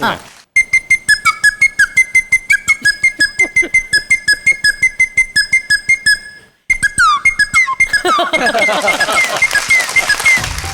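A flute imitates a reversing alarm with rapid, evenly spaced repeating beeps in a steady rhythm, pausing once before resuming louder, close to the listener.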